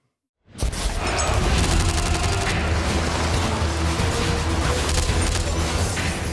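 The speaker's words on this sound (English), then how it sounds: "Now the extremists burst into the theatre, rake the foyer with gunfire" Sustained, loud, dense volleys of gunfire with crashing impacts erupt suddenly after a moment of silence and keep going without a break, echoing as if in an enclosed theatre foyer.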